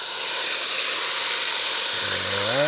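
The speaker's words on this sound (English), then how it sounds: "we're going to deglaze the pan with vodka" A hot pan deglazed with vodka for a vodka sauce gives off a loud steady hiss of sizzling steam, and a short voiced tone rises over it near the end.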